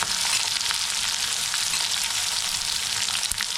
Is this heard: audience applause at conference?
no